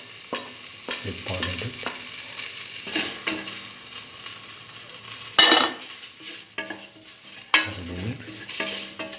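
A spice mixture being stirred in a hot pan for a curried mustard lentil stew with fenugreek leaves, giving a steady close sizzle with scraping utensil strokes and occasional metallic clinks, while a voice briefly speaks.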